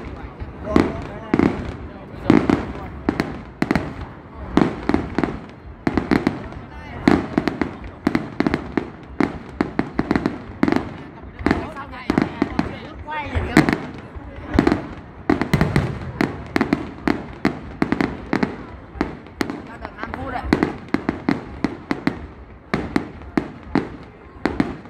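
Fireworks display in Thuận Thành, Bắc Ninh: a dense, loud barrage of rapid bangs and crackles going on continuously, with voices talking in the background.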